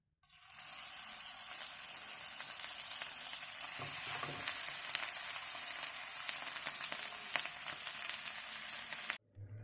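Mashed peas and potato hit hot oil tempered with asafoetida, making a loud, steady, hissing sizzle that runs unbroken for about nine seconds and then cuts off abruptly.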